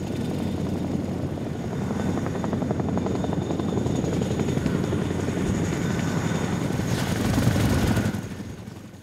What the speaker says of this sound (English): we boarded the loud CH-47